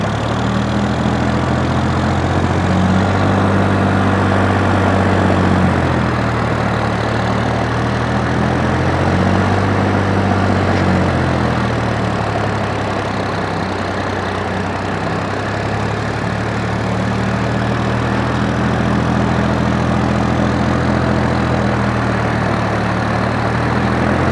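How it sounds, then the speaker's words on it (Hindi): A Sonalika DI tractor engine idles low and steady, a deep rhythmic chugging that rises and falls slightly over time, close and continuous with no talk. "क्या आपको विश्वास हो रहा है कि आइडियल आरपीएम पे ट्रैक्टर चल सकता है?"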